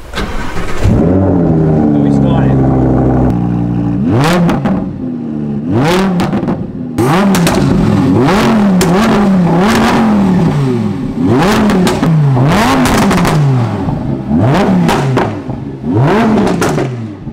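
A Lamborghini Huracan Spyder's engine barks and revs repeatedly, loud and close, with rising and falling blips in quick succession after an initial idle, with a voice heard briefly between them.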